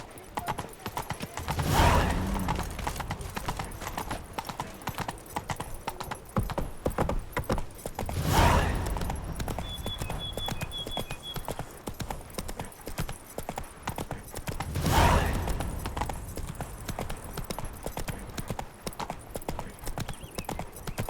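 The horse Roach gallops in Witcher 3, with steady rhythmic hoofbeats running throughout, up close. Three whooshing swells of wind or movement and a faint chime rise over them, and no one speaks.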